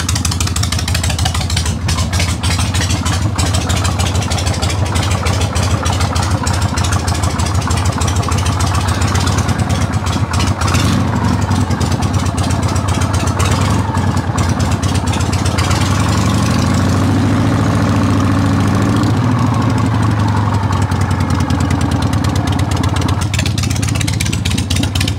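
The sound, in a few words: motorcycle engines idling after cold start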